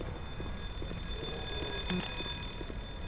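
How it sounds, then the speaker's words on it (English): An electronic alarm sounds in Black Mesa, a steady tonal ringing pattern under dense game noise and rumbling ambience, repeating faintly throughout without any voices. "There's an alarm going off."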